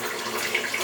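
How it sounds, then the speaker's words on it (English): Cold water runs from a kitchen tap in a steady, close hissing stream, poured over cooked food to cool it, with no talk. "I'm gonna pour some cold water in them"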